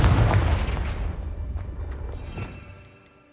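Confringo spell explosions in the Hogwarts Legacy video game, a loud booming blast up front that rumbles and decays over a few seconds with smaller crackling pops trailing off.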